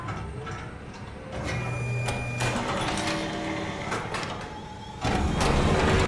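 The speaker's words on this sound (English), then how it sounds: "So Simon loads the Ark into the bullet housing." Mechanical clanks and whirring of an Ark round being loaded into a bullet housing in a video game, a steady layered machine hum with sharp clicks and a louder surge near the end, no talk.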